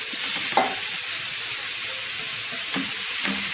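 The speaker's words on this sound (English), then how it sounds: "in the ghee we will put our carrots" Carrots sizzle in hot ghee in a pan for gajar halwa, producing a loud, constant high hiss broken by a few brief stirring scrapes.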